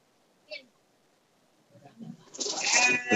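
Goats bleat in a village goat pen: one short high call, then a louder, rising chorus of bleating that grows near the end, close by.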